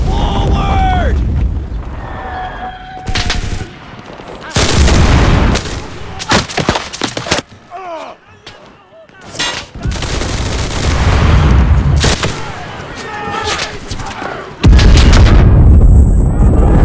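Artillery and small-arms fire in the shooter Enlisted on a Pacific War beach invasion at Guadalcanal, with heavy booms, rattling gunfire and repeated loud blasts over a constant battle din.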